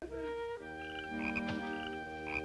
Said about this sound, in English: There's something fascinating about the sound of a frog.